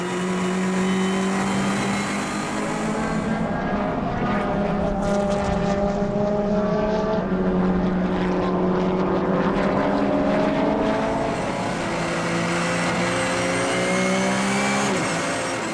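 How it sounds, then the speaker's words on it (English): Race cars at Assen during a 2011 Dutch Supercars event, including a Porsche and a BMW, engines droning loudly with rising and falling pitch as they accelerate and shift, a continuous racing roar. "Daan Meijer in the Porsche in third"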